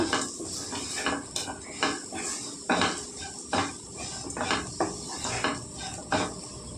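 Okra stir-frying with chili powder in a pan, a spatula scraping and knocking against the metal in a steady rhythm of clattering strokes, with a faint sizzle underneath and no talk.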